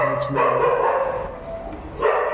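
A dog barks and yelps nearby, a couple of sharp calls with a drawn-out whining bark between them.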